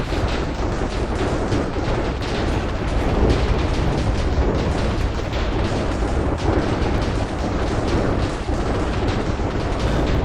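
Spammed lightning strikes from a modded lightning staff in Minecraft: a dense, loud, continuous barrage of crackling booms and rumbles that overlap without pause, with no talk.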